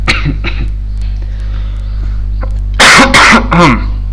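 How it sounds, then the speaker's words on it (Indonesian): Three loud, harsh coughs burst out close to the microphone in quick succession after a stretch of faint background hum. "Nah, saya batuk."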